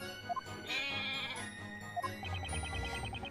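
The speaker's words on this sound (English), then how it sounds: "there isn't a cuter little goat in this entire courtroom" Goat bleating in the video game Professor Layton vs Phoenix Wright, a wavering cartoonish bleat over soft game music, followed by short chiming effects.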